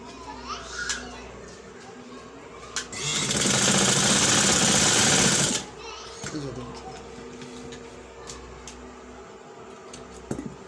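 Sewing machine stitching a garment neckline, one steady burst of about three seconds in the middle, with room noise and a few faint background sounds before and after.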